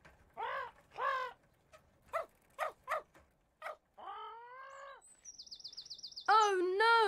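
Cartoon parrot calling, a string of short squawks and chirps followed by longer warbling and whistling calls. Clear and close, with short pauses between calls.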